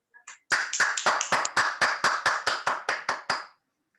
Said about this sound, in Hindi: उनका एक बार जोरदार तालियों से स्वागत।